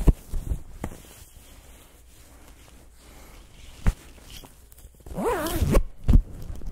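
Full-length zip on a cycling jersey pulled up, a sharp rising zipper rasp near the end after some fabric rustling and handling noises, close and fairly loud.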